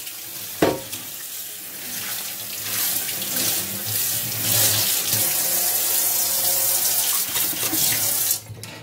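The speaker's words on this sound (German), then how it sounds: "Und jetzt schaue ich mir das mal unter klarem Wasser abgespült an." Running tap water pours steadily onto a Weber Q 1000 griddle plate being rinsed in a sink, a broad continuous splashing rush after a brief knock, ending abruptly as the flow stops.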